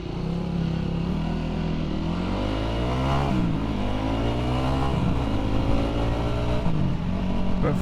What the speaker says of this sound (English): This is a sort of a high compression sort of performance dirt bike, I guess.